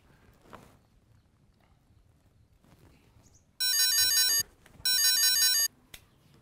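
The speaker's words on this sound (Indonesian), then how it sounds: "Sila tak telepon ya." A phone ringtone trills twice in loud electronic bursts, each about a second long, after a few faint footsteps in a quiet room.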